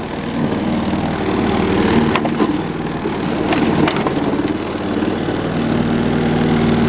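A lawn mower engine idles steadily with a low, rough drone and a few faint knocks, continuous and fairly close, without talk.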